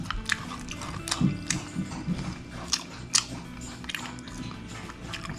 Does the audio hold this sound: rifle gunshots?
no